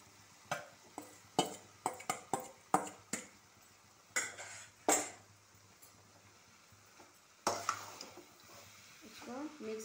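Rice being tipped into a pan of softened tomato masala and stirred: a run of sharp clinks and scrapes of a spoon against the pan, then quieter shuffling and a few more clatters near the end.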